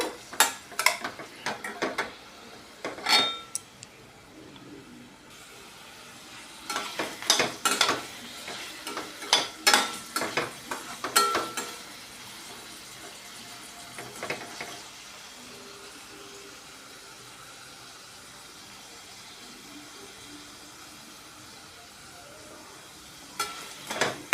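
Paneer frying in a pan for a paneer curry, with soft continuous sizzling broken by intermittent scraping and stirring clatters, busy in the middle and quiet for long stretches.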